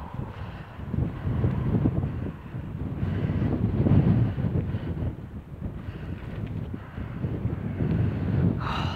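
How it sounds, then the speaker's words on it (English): Wind buffeting a microphone on a hilltop on Pule Hill near Marsden Moor, a continuous low rumbling roar that surges and eases over several seconds, with no talking. "Windy up on the hill here."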